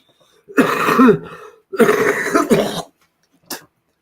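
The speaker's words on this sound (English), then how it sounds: "I'm getting over a cold. That's why I'm coughing like this." Two long, harsh coughing fits from one person with a cold close by, followed by a short, faint cough after a pause.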